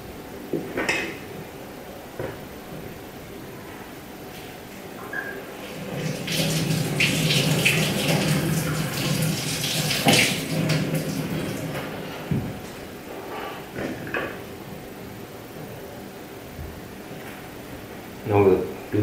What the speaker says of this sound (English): I'm just going to wash the garlic.